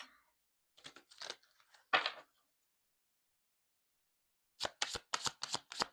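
Playing cards are shuffled in crisp bursts: a few riffles first, then a quiet pause, then a quick run of several more.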